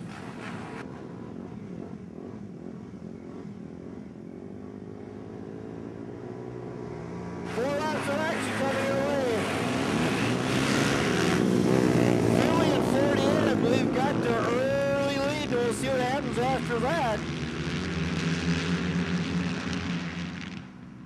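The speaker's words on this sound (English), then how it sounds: "Miles Johnson, South Dakota, get it fired up there and find his gear" A flat track racing motorcycle engine fires up and revs at a New Ulm dirt track race, a loud rising engine roar after a quieter stretch, with an announcer talking over the PA.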